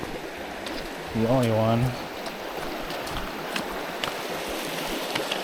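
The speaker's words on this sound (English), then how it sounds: "Here's the big creek crossing," Creek water rushing steadily at a hiking trail crossing in a winter state park, a constant broad wash close by, with a voice briefly speaking over it.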